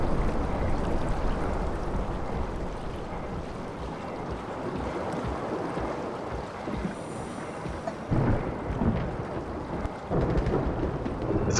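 Rumbling storm ambience in the video game Soma: a dense, continuous low roar of thunder with wash of rain or surf-like noise, steady and fairly loud throughout, with brief swells near the end and no talking.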